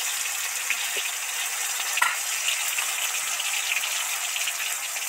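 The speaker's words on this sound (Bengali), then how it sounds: "তেলের মধ্যে দিলাম টমেটোর কাঁচা গন্ধ চলেও যাবে আর সফট হয়ে যাবে" Tomatoes sizzle in hot oil while papad dalna is being cooked, giving a steady, close hiss with faint crackles and no voices over it.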